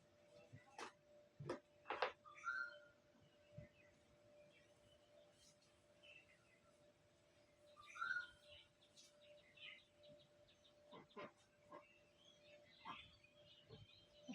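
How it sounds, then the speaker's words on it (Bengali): Two faint, brief bird calls sound at a distance among quiet ticking and clicking noises in an otherwise hushed indoor room. "পাখি ডাকতেছে"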